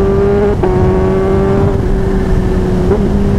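A Kawasaki ZH2 motorcycle engine with a quick shifter drones loud and close at steady revs, with two brief dips in its tone as it runs.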